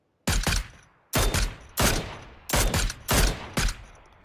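Automatic gunfire in the battle royale video game PUBG: five loud, close bursts of rapid shots, each about half a second long, separated by brief gaps, with no speech over them.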